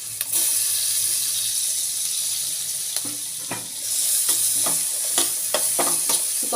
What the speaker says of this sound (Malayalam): നമ്മൾ കട്ട് ചെയ്ത എല്ലാ വെജിറ്റബിൾസും അങ്ങോട്ട് ഇടാവേ